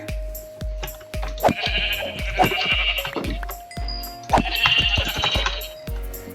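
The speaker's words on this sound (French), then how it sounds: "Ah oui, d'autres moutons là-bas." Sheep bleating in Minecraft, two loud wavering bleats close by over repeated footstep thumps and game sounds, with no talking.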